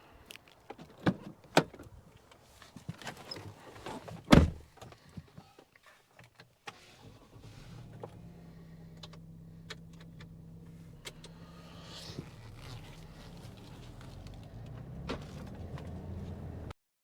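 A Range Rover Vogue 3.0 litre V6 door thuds shut as someone climbs in, with clicks and rustles leading up to it and a low steady hum settling in afterward.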